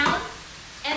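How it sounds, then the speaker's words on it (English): Brief scraping stir of fresh broccoli into chicken fried rice in a frying pan, two short bursts of sizzling scrape with a soft sizzle between them. "I'm gonna stir it around and just throw the lid down"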